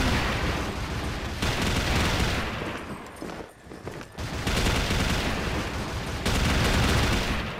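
A Gold Black turbine machine gun, the MK5, fires in a video game as sustained dense bursts of rapid gunfire, loud and continuous, with a brief lull near the middle before the firing resumes.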